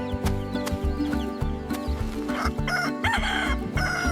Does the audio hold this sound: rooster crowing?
yes